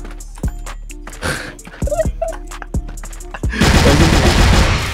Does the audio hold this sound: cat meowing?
no